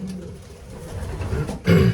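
Young racing pigeons coo softly at close range in a loft, with a louder, fuller coo near the end.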